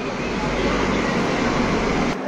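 Steady, loud rumble of a long-distance passenger train running on the tracks, heard from inside a coach as a continuous broadband roar with no breaks.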